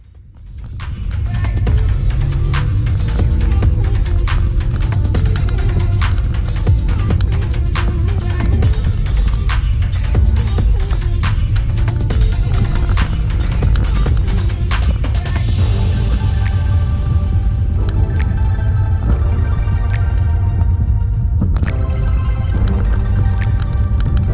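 A Mitsubishi Evo 4 rally car drives a RallyX lap, its engine loud and close throughout with constant revving, roaring acceleration and gear changes, plus gravel and road rumble.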